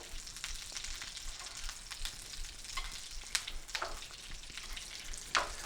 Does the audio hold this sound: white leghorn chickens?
no